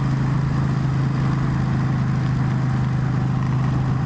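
A steady motorcycle engine drone from a 1996 Suzuki VS1400 Intruder, with a persistent low buzzing hum from a vibrating mirror throughout, loud and close, with no voices.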